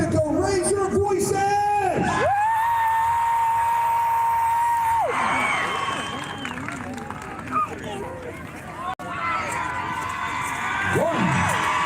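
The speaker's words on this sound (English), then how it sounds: "If you cheer for the man from Mexico, raise your voices!" At a Renaissance faire joust, a crowd cheers and shouts in a loud, sustained roar, with whoops and children's yells rising and falling, while an announcer talks over it.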